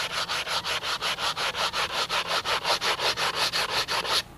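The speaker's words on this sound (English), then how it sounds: "I'm just going to sand the ease into them." Sandpaper worked by hand along the wooden edges of a boat, a brisk, regular rhythm of about twenty close rasping strokes.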